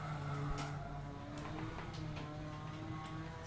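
A Datsun race car in a racing video game passes by, its engine a steady distant drone with faint tire and mechanical ticks, fairly quiet with no talk over it.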